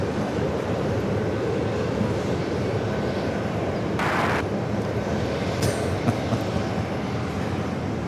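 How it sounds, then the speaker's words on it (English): An Asiana Airlines Airbus A350-900 jet taking off from runway 4 Left at JFK, a loud continuous broadband engine roar with steady rumble, heard from nearby without talk. "Next takeoff, Asiana, flight 221, heading back to Seoul, A350-900"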